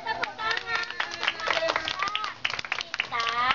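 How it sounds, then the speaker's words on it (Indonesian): Young children clap their hands in a kindergarten classroom, the slaps quick and uneven, mixed with excited chatter and voices throughout. "Tepuk tangan."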